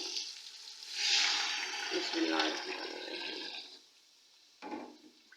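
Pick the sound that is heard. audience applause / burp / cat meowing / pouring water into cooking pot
pouring water into cooking pot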